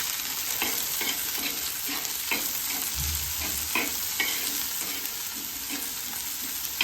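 Onions sizzle steadily in a hot pan on a griddle, with a constant bright crackle and repeated scraping stirs at a regular pace, close and alone.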